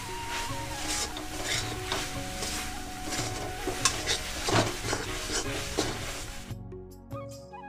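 A spoon stirs and scrapes a coconut filling mixed with milk powder around a pan, the rubbing strokes repeating steadily for several seconds before stopping abruptly near the end.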